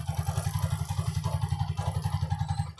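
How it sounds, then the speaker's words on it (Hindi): A motorcycle engine idles on its stand while its chain is lubed with gear oil, thumping in a quick, even, low rhythm at close range over a faint background hiss, with no voices. "आप यहाँ पे देख रहे हैं मेरा बाइक स्टार्ट है"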